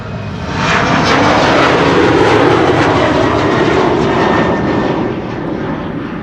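A German Airways jet in hybrid livery, flying for KLM, departs Amsterdam Schiphol with a loud, swelling engine roar that peaks early and stays strong before easing slightly, with no voices.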